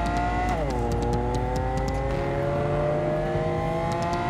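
A car in the video game Cyberpunk 2077 accelerates at high speed, its engine note rising steadily in a sustained whining roar with brief clicking transients, and no talk over it.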